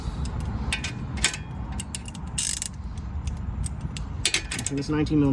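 Ratchet clicking while loosening a 19 mm nut on the front lower control arm of a Honda Accord, a steady run of close mechanical ratcheting strokes with metallic clinks, alone without speech.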